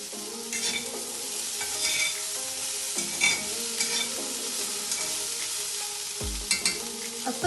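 Potatoes tumble into a pan where chickpeas are already frying for a Kerala-style vegetable stew: a continuous close sizzle broken by scraping stirs and a low thump near the end, with no talking.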